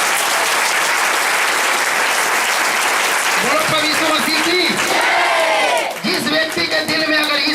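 A congregation claps during a Sunday prayer service, loud sustained applause with crowd voices, then someone speaks and chants over the last few seconds as the clapping continues.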